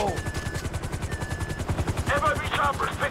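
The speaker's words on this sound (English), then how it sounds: "FIB choppers, pick me up." FIB helicopters in GTA V thump with rapid rotor beats through a raid mission, joined by bursts of gunfire and shouting voices in the game's mix.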